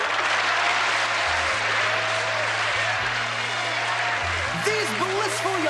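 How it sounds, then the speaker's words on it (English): Crowd applause and cheering from a packed martial arts tournament audience rolls on loudly and continuously, with a low droning tone underneath and brief voices rising near the end. "Let's hear it for Goku and Chichi"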